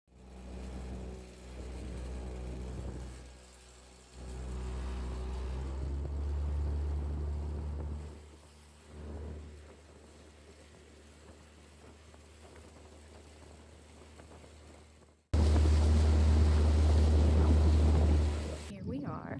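A motorboat engine drones crossing water to Mudge Island, with wind buffeting the microphone, swelling and fading, then a loud roaring burst near the end.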